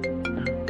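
A phone ringtone for an incoming call, a short repeating electronic melody with bright tones, clear and close, heard alone.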